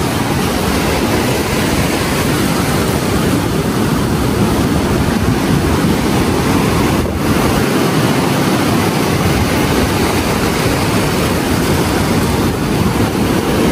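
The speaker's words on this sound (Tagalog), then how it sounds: "Grabe yung alon." Strong storm-driven ocean waves crash and roar in a continuous loud wash, with no voices over the steady surf noise.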